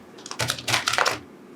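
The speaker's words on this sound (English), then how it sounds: "These cards are really hard to shuffle." A deck of tarot cards being shuffled close by in quick bursts of soft papery riffling and tapping, a few rapid clusters in a row with no talking.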